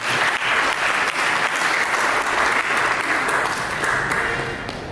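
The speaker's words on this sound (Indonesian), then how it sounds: "Mari berikan tepuk tangan yang beriman." A church congregation claps in sustained, dense applause for nearly five seconds, steady and loud, tapering slightly at the end.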